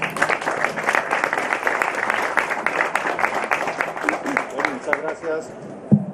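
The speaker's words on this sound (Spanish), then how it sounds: "un aplauso para que comencemos" Audience applause at a book launch, a crowd clapping steadily and fairly close for several seconds before it fades and a voice begins to speak.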